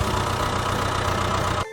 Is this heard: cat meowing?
no